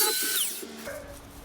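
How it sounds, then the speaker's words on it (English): Angle grinder cutting off protruding screw tips on a wooden firewood storage shed build; a short, loud, high whine that drops off as the cut ends, heard alone. "we're just going to cut them off with an angle grinder"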